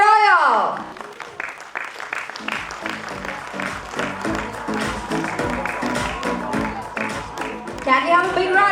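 Audience applause fills an award ceremony at an international film festival in Mumbai, with steady, rhythmic clapping from a crowd. It runs alongside a voice and tonal sounds, loudest at the start and end.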